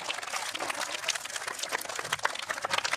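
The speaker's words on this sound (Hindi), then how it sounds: "जोरदार तालियां नानक जी के लिए।" Applause rises from an audience at a school annual function, a steady dense patter of many hands clapping that fills the whole stretch at moderate level, with no voices standing out.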